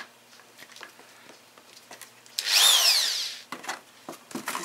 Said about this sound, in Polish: montuję gwintownik do wiertarko-wkrętarki.